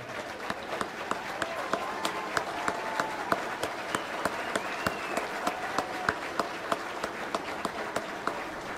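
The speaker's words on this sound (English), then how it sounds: "Let's give these guys a round of applause." A crowd applauds former Brother Rice football players at a tribute to their coach, steady dense clapping with a few sharp near claps standing out, faint voices mixed underneath.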